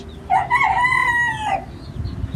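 An İspenç rooster crows once in a coop on a farm, a single loud, drawn-out call rising and falling over about a second, followed by quiet barnyard background.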